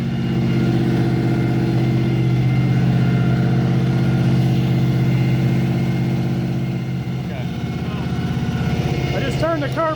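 A 351 Windsor V8 in a Ford Foxbody, revived after years unused, runs at a steady fast idle, a loud continuous rumble with a faint shift near the end and no talk over it.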